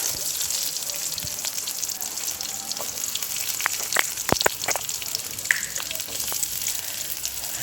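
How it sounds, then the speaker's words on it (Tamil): Mustard seeds and lentils tempering in hot oil, a steady sizzle with scattered crackles and pops, fairly quiet and continuous throughout. "கடுகுங்க கடலைப்பருப்பு உளுந்தும் பருப்பு எல்லாம் போட்டு தாளிச்சுக்கோங்க"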